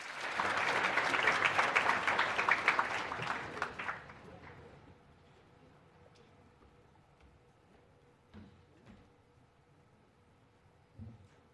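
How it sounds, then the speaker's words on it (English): An audience applauds a speaker coming on stage at a mathematics and science awards ceremony, a dense burst of clapping that fades away after about four seconds, leaving a quiet room with a few scattered knocks. "Can we please give them a round of applause as we welcome them on stage?"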